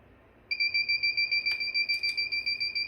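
A Radionics D4112 security system keypad beeps in a rapid, steady stream of short high-pitched tones after a brief quiet start, continuing without pause, signalling entry of the disarm code after a zone is triggered.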